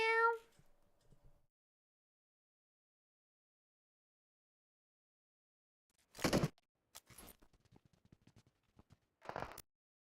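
A cat lets out one clear, close meow at the start, followed by long silence and a few scattered bumps and rustles.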